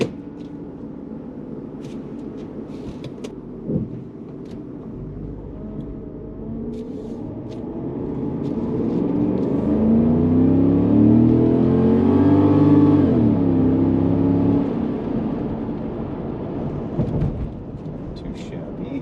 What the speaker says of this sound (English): Let's see how the Aurora